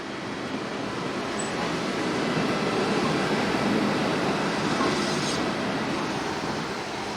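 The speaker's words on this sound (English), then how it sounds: "Two more Vectrons arrive with a northbound intermodal" Siemens Vectron locomotives haul a northbound intermodal freight train on a European line, a steady, loud rolling rumble with faint wheel hiss that holds evenly throughout, with no voices.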